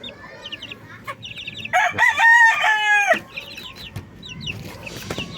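Peruvian 4G Black Knight gamefowl roosters kept in cages made from market banana boxes, one crowing loudly mid-clip amid repeated nearby clucks and short calls.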